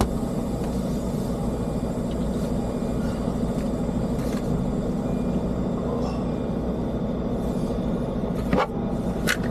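A semi truck's engine rumbles at a steady idle, with a low droning hum throughout and a sharp click near the end.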